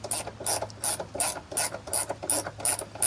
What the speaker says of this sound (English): You need 7T socket, guys, to lose the middle nut.